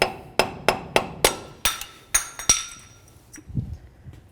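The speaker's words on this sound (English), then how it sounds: "You can use something as simple as a pry bar and a hammer. Just give it a couple loving bonks." A hammer strikes a pry bar to knock a cover off the front CV axle of a 1999-2007 Chevy Silverado, landing about eight sharp metallic blows in a steady rhythm before a softer clunk at the end.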